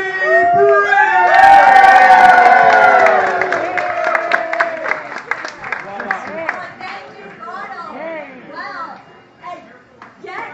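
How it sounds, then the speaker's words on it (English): A crowd at the grand opening of a McDonald's flagship restaurant on Yonge Street, Toronto, erupts in loud cheering, whooping and clapping, then settles into scattered applause and excited chatter, including children's voices. "Ladies and gentlemen, make some noise. Fill the room with cheer for Lindsay Brand."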